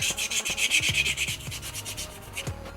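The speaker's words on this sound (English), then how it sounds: "let's give these a little sanding real quick." Sandpaper rubbing the edges of foam or wood terrain model pieces for a tabletop game, a steady run of close, quick back-and-forth strokes with no voices.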